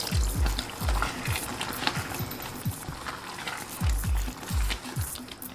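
Water is added to green hariyali chicken masala in a hot pan, giving a steady sizzle with repeated low thumps and scraping as it is stirred. No one speaks.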